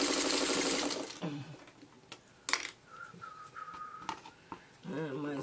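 A sewing machine stitches a 6.5 inch Dutchman's Puzzle quilt block. A loud burst of fast stitching opens the clip, then quieter handling clicks and short whirs follow, with another run of stitching at the end.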